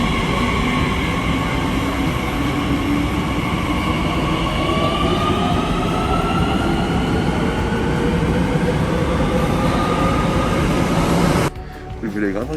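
RER commuter train in Paris rumbling loud and close with a steady roar, thin wheel squeals rising over it, before the noise abruptly drops near the end.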